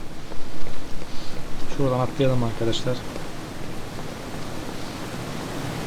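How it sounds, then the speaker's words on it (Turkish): A waterfall in Half-Life 2 rushes in a continuous broad roar beneath someone talking over the gameplay. "Bu şelale sesi de on numara ya."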